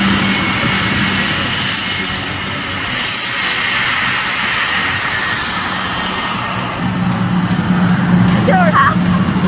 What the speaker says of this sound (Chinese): 他的飞机现在正在滑行路边，马上来了，两架。